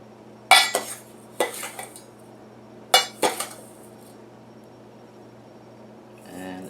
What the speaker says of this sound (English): I'm going to put 2 cups into a large bowl